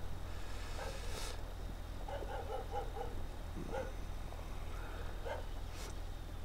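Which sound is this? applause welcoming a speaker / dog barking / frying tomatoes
dog barking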